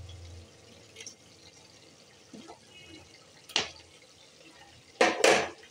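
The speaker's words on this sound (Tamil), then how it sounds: "இந்த மிக்சியை அலசி கொஞ்சமாக வாட்டர் ஊற்றுறோம்" A kitchen mixer jar being rinsed and a little water poured in while cooking a paneer side dish: a few scattered clinks of the jar, then a short burst of splashing water near the end, fairly quiet.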